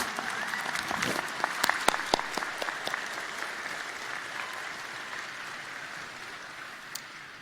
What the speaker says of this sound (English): Please join me in a round of applause for these wonderful organizers.